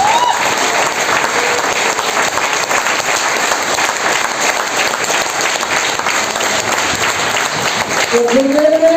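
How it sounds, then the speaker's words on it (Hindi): Audience at a technical training event in Faridabad applauding, dense sustained clapping from a crowd filling the whole stretch at high volume, with a voice rising out of it near the end. "कैसी जबरदस्त ताली होनी चाहिए"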